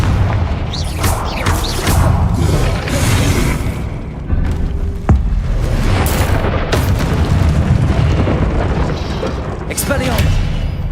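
Repeated loud explosive blasts from the Confringo blasting curse in a Harry Potter video game, heavy booms and bursts recurring across the stretch with spoken spell incantations mixed in.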